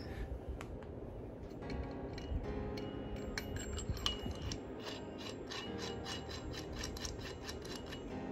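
Quiet ratcheting clicks from tightening a nut on a hood pin of a 2017 Dodge Charger Scat Pack, a series of close, light metallic ticks in irregular rhythm over faint background hum.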